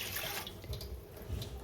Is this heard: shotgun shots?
no